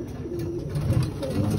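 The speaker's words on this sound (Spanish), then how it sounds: "Y una paloma va aquí" A pigeon coos close by in a low, rolling, repeated call, fairly loud and steady throughout, with no talking.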